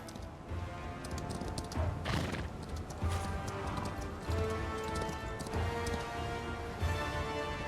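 Steady clip-clop of horse hooves from Chrono Odyssey, a rhythmic trotting gait heard close and continuous, with occasional crunchy impacts mixed in and no talking.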